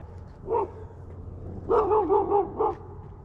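Dog barking outdoors near a five-acre pond, one short bark followed by a quick run of three or four barks, moderately close over a low background hum.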